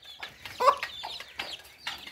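A hen at a rural home gives several soft, short clucks in a loose, irregular rhythm. They are faint and close, with quiet background between them.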